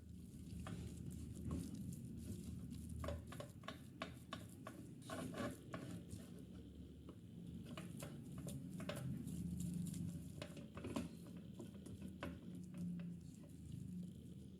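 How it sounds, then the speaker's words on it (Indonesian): Wheat flour being stirred quickly into hot choux pastry dough in a pan, a steady soft scraping and patting with light clinks against the pot, continuous and close, with no talking. "Aduk cepat dan pastikan seluruh tepung terigunya merata dan menyerap cairan"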